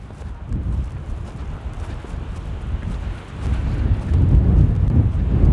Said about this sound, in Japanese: あ、やばい、風がやばい。